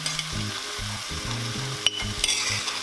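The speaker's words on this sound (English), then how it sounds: "You don't have to cook the onions too much, just a little. I'm gonna add seasoned butter." Onions frying in a pan with seasoned butter, a steady close sizzle with bursts of stirring and a couple of sharp pops, no talking.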